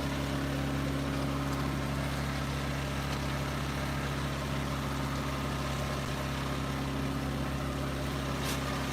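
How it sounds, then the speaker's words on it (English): A generator drones steadily nearby, a constant low mechanical hum with a faint higher whine on top, unbroken throughout and with no talking. "I'm sorry for the noise of the generator."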